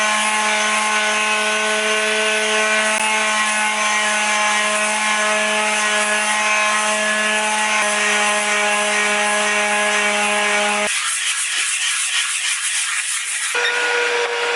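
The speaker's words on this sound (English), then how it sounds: "using 120 grit paper, sandpaper, we're going to roughen up the surface" Sanding a carbon fiber skateboard deck with 120 grit sandpaper, a steady continuous abrasive rubbing that holds evenly for most of the stretch, then shifts and thins near the end, with no talking.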